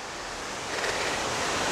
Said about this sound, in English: You might be able to see the waterfall back there behind me.